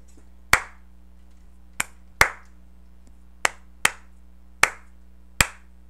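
Hands clap alone in a dotted quarter rhythm during a music lesson: seven sharp, close claps with uneven spacing, long-short groupings, over a faint steady hum.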